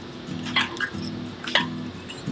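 Metal shrinker/stretcher gathering a 3003 aluminum sheet: a low rhythmic mechanical grinding in repeated strokes about every half second, with short sharp clicks and squeaks of the metal between pulls, close and steady.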